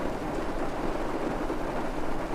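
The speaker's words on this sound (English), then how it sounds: "Just the rain." Steady rain pours as a dense, even hiss, close and continuous throughout with no distinct thunder crack, an unbroken wash of falling water.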